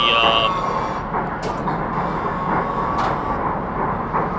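An R179 subway train's electric motor hums and whines steadily in a train simulator game, with a bright tonal drone over rumbling rolling noise and occasional clicks.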